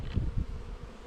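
Dense, close buzzing hum of honeybees from an aggressive hive during an open inspection, steady and low without any voices.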